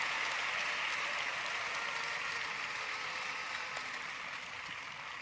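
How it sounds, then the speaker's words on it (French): A large church audience applauds for the Lord, a continuous, even roar of many hands clapping at once that holds steady throughout and fades slightly at the end. "Give the Lord a big clap offering."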